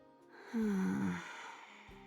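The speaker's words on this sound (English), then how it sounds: "Amongst the tranquility, only Frima's breathing can be heard." Frima from the Nikke video game breathing while asleep: a single soft, close breath that rises and then fades in the quiet.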